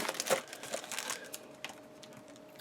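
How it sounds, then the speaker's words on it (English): Plastic packaging of scrapbooking supplies crinkling as it is opened, soft irregular rustles and crackles close by in a quiet room, with a few louder crunches early on. "So please excuse the crinkling if you're one of those people that can't stand crinkling."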